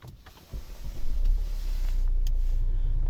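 Volvo V70 2011 with a 2.0 D4 diesel and automatic gearbox starting up, a brief crank followed by a low, steady idle rumble close by.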